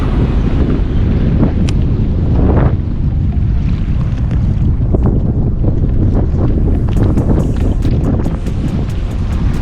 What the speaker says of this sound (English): I know the wind probably sounds terrible